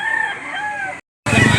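At a poultry auction market in Lipa, Batangas, a rooster lets out a loud, close crow lasting about a second, followed after a brief gap by a harsher burst of fowl noise.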